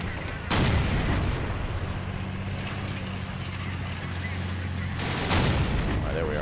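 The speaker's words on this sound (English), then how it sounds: "it looks like we've attracted that artillery now, so let's pull the hell back." Artillery fire in the World War II strategy game Men of War: Assault Squad 2, with two heavy booming impacts about five seconds apart over a constant rumbling battle din, with distant engine drone and scattered crackle between the blasts.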